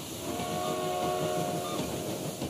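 A train runs steadily along the tracks with a continuous rumbling roar and a sustained whistle-like tone above it, moderately loud and with no voices.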